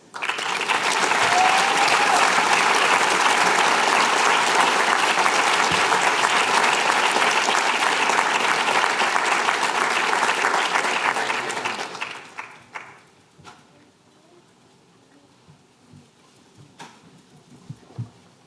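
A large audience at a Harvard Medical School PhD hooding ceremony applauds graduates with loud, sustained clapping for about twelve seconds. It then fades quickly, leaving a few scattered late claps in near quiet.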